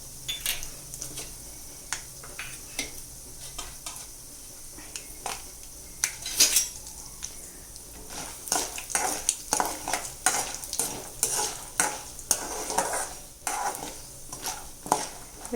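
Peanuts frying in hot oil in a pan for upma, stirred with a utensil that scrapes and clinks against the metal in irregular bursts over a steady soft sizzle, close and fairly loud, with no talking.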